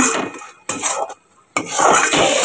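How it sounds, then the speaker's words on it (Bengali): Metal spoon clanks and scrapes against a pan while a spice masala with added sugar and salt is stirred and sautéed, with bursts of utensil noise separated by brief quieter gaps and no talking. "এবার এটাকে কষাবো"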